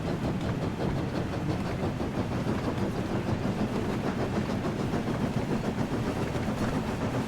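James the red steam engine from a Thomas and Friends video game running along the track, a steady rhythmic rumble and clatter of wheels and engine that continues without pause.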